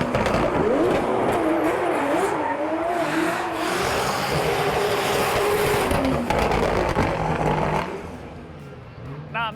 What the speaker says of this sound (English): you can just hear the sounds of the engines echoing off the buildings here in Long Beach